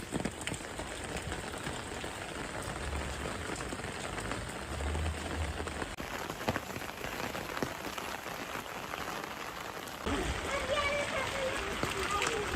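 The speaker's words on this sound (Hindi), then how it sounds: "बाहर शुरू हो गई थी बहुत अच्छी वाली बारिश" Steady rain pours down outside, a constant dense patter on surfaces, with a voice talking faintly over it.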